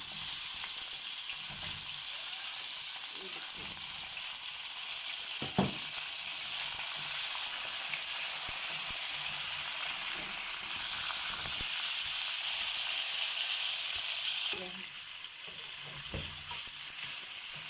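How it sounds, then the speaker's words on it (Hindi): Chicken pieces fry in hot, chili-reddened oil for a restaurant-style chicken karahi, giving a steady loud sizzle throughout with a few brief clanks of a utensil against the pan. "ये देखिए फ्राई हो रहा है"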